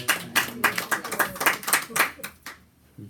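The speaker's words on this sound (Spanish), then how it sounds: "Otro aplauso, por favor." A small group claps during a class or workshop session, loud and close, with distinct uneven hand strikes that die away near the end before a voice briefly starts.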